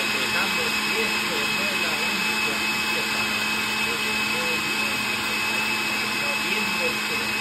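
A blender grinds garlic for salsa verde, a steady, loud whirring drone with a high motor whine that stays unbroken throughout.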